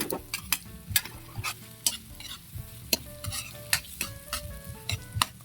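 Ginger, garlic and white onion sauté in a pan, with a spatula repeatedly scraping and clanking against the metal in a quick irregular rhythm over a soft, steady sizzle.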